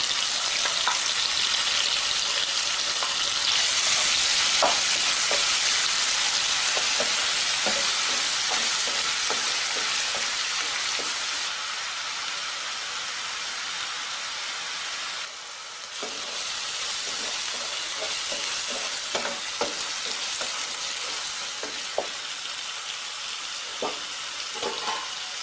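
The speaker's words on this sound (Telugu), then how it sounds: "దానిలోనే కరివేపాకు, దానిలో మనం పేస్ట్ చేసుకున్నాం కదా, ఆ పేస్ట్ కూడా ఆయిల్లో వేసి వేయించుకుందాం" A ground paste frying in hot oil with curry leaves and cumin for a village-style fish curry, giving a loud continuous sizzle with occasional stirring clicks and scrapes, no talking.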